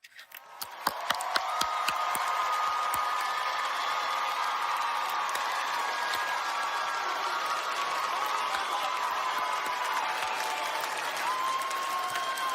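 A large crowd at a university graduation ceremony breaks into sustained applause for families and friends, starting with a few sharp claps and swelling into dense, loud, even clapping that holds to the end.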